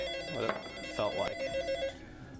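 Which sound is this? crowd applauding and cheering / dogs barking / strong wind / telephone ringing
telephone ringing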